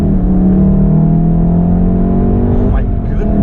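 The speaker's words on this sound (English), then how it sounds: "I really like the way your exhaust sounds" The exhaust of a 2016 VW Golf R drones as the car accelerates, a sustained throaty tone that shifts in pitch near the end, with voices heard under it.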